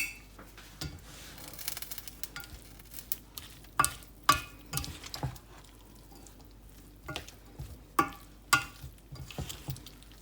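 Drained spaghetti being tossed with a teaspoon of butter in a pot, heard as soft, quiet stirring with wet squishes and intermittent sharp knocks of a utensil on the pot, close up and with no talk.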